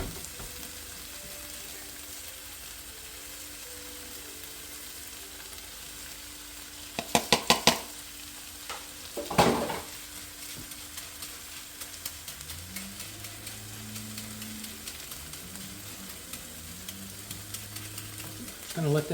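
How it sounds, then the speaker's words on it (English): Rice frying and toasting in a pan for Mexican-style rice, a soft steady sizzle throughout with a few sharp scraping clatters as it is stirred and patted down, faint voice murmurs underneath later. "So I'm going to throw the rice in right now. I'm going to pat it down a little bit and try to get it a little toasty."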